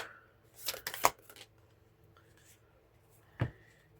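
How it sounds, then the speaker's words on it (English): Tarot cards that resist shuffling smoothly make a few quick, close riffling bursts near the start and one more short snap a few seconds later, against a quiet room with no talking. "These are not wanting to shuffle correctly."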